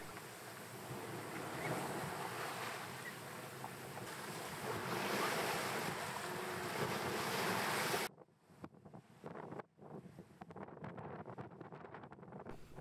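A sailboat tacking into the wind through short, choppy waves off the Marquesas Islands, with loud rushing wind and surf that give way to quieter, intermittent water sloshing and gusts.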